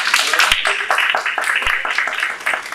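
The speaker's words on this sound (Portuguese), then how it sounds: "eu gostaria de uma salva de palmas, por favor" Audience applause in an auditorium during an evening project briefing, a dense steady patter of many hands clapping close by, continuous through the whole moment.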